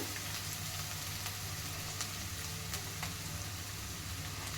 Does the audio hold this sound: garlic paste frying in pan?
yes